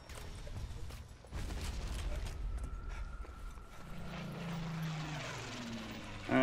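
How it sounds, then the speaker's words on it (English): In the Zombie Army Trilogy game, propeller airplanes drone overhead at a military base, a steady rumbling hum with a rising engine tone that swells and fades, and no voices. "All right, more airplanes."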